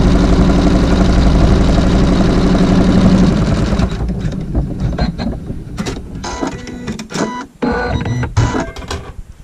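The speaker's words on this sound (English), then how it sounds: "So now we can sew the seam with the regular" A sewing machine stitches a fabric seam on a log cabin triangle quilt block with regular thread, a loud steady rapid motor whir that gives way to slower, uneven bursts of stitching and clicks.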